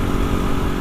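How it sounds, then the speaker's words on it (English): A small KTM 125 Duke motorcycle with learner plates rides past on an evening road, its engine a steady, loud droning buzz that holds close throughout the short moment without any talk. "I've got a KTM, I think it's a 125 behind."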